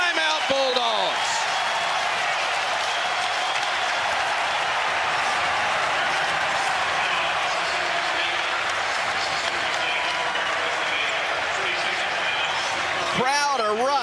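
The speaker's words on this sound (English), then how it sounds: "Crowd erupts after Grant Nelson got a great pass, went down the lane, threw it home with authority" Loud, sustained basketball arena crowd roar cheering a dunk during an Alabama versus Mississippi State game, broad and steady throughout with a swell of cheers near the end and sneaker squeaks audible.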